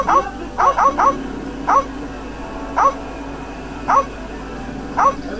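Dogs in the game The Secret of Monkey Island give short, high yips in a loose, uneven series: a quick burst of three, then single yelps spaced about a second apart, loud and alone over a faint hum.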